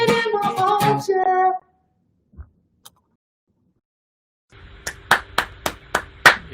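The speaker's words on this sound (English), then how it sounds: "every good end of every good show, especially here in Portland, needs some clapping" Hands clapping at the close of a live at-home music show in Portland, a short run of about five or six sharp claps near the end after singing fades out and a stretch of near silence.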